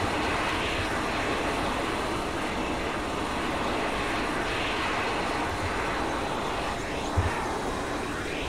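In the Arma 3 video game, a helicopter sets down on a helipad with a steady, droning rotor and engine roar that fills the whole stretch without a break, broad and even in loudness, with no speech over it.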